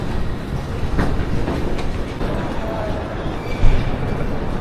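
Steady rumble and rattle of a passenger train in motion, heard from inside a crowded car, with continuous clickety-clack of wheels on rails and a brief louder clunk near the end.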